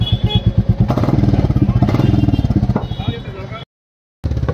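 A Royal Enfield Classic 350 motorcycle engine idles up close with a rapid, thumping pulse, then the recording cuts briefly silent before the engine resumes.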